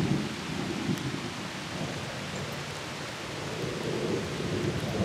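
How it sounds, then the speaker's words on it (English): Steady rain hisses throughout a thunderstorm, with low rolling thunder rumbling beneath it, continuous and fairly loud with no voices. "In a thunderstorm."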